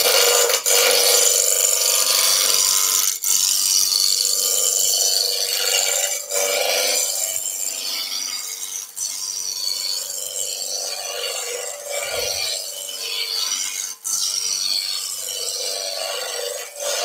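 A roughing gouge rasps continuously against a wood blank spinning at high speed on a lathe, a loud close grinding scrape that swells and dips over several passes, without speech.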